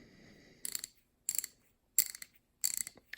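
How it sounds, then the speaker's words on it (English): A rebuilt Snap-on 11-inch, 30-tooth ratchet gives four short, crisp bursts of rapid clicking, evenly spaced and close up, with near silence between strokes and no voices. "It is about a 30-tooth ratchet, but nonetheless, it is an 11-inch ratchet, and it works really well"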